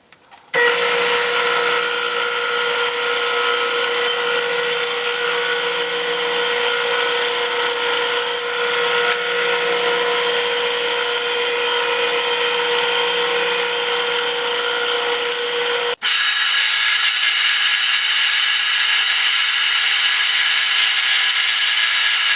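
A power tool, likely a router, cuts a wooden blank into a round piece for making octagonal table legs, running loud and steady for about sixteen seconds before the tone shifts and the cutting continues.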